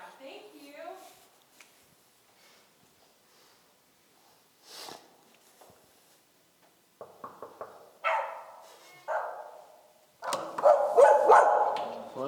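An excited dog barks and yips in bursts that grow louder and denser toward the end, mixed with people talking nearby.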